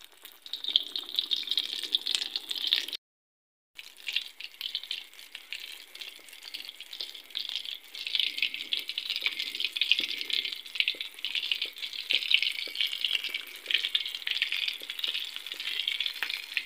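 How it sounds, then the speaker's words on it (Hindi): Bread potato balls fry in oil over a low flame, giving a steady, close hiss of sizzling that drops out briefly near the start, then carries on evenly. "हल्की आंच पे इसे फ्राई करना है।"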